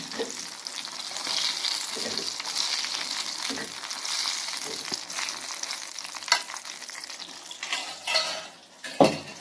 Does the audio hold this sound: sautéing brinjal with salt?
yes